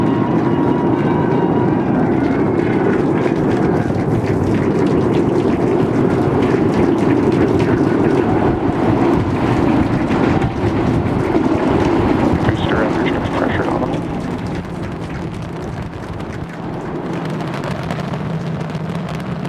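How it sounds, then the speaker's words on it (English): SpaceX Starship rocket launching on its eighth integrated flight test, 33 Raptor engines firing: a loud, sustained broadband roar that stays steady, then eases somewhat near the end, with crowd or commentary voices mixed underneath. "We are seeing 33 out of 33 Raptor engines ignited."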